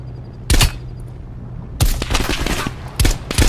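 Gunfire in Call of Duty Cold War: loud, close bursts of rapid automatic shots in three separate volleys, with echoing tails between them.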